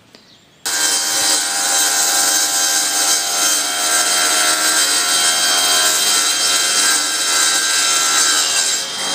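Band saw with a carbide blade cutting through a metal cable-tray bar, a loud sustained grinding, rasping whine that starts abruptly after a quiet moment and runs steadily to the end.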